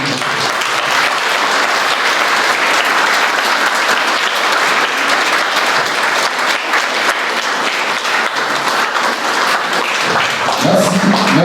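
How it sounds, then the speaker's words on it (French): A congregation at a memorial celebration of life gives loud, sustained applause, a dense, even roar of many hands clapping throughout, with a voice emerging faintly near the end. "faire un tonnerre d'applaudissements pour nos bien-aimés montés au ciel"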